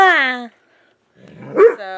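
Dogs whine in a high, drawn-out tone, then after a brief pause give a loud, close bark followed by more whimpering.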